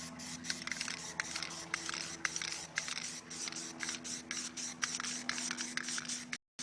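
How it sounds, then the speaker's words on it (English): Plasti Dip aerosol can spraying a coat over car chrome window trim, a steady close hiss broken into short rhythmic bursts by the sweeping passes, with a faint background hum, ending abruptly. "we're going to go ahead and put our first coat on now"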